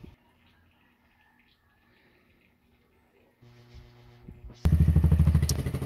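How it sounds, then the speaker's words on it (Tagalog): A Keeway CR152 motorcycle engine with EGR deleted starts up after quiet handling noises, settling into a loud, close, pulsing idle as it warms toward backfiring. "Pinitin muna natin ang makina hanggang sa na mag-backfire na siya."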